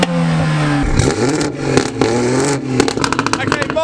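A BMW M140i revs hard and accelerates in a race against an A45, its engine note rising and falling loudly and close. People talk over the engine throughout.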